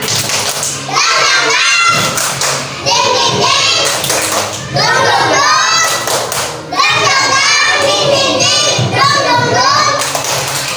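A group of children doing a rhythmic spirit clap in a classroom, loud chanted voices alternating with bursts of clapping and thumping in repeated phrases, with short pauses between rounds.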